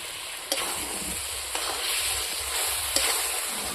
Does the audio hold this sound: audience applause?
no